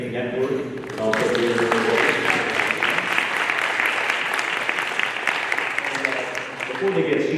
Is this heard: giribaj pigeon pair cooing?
no